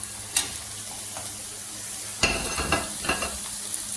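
A faint, steady sizzle of cabbage frying in a pan with garam masala, chilli powder and turmeric, broken by a few soft clinks and scrapes of stirring; no voices.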